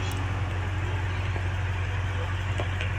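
An off-road vehicle's engine revs low and rumbling as it drifts, a steady heavy drone with faint crunching, fairly quiet and continuous.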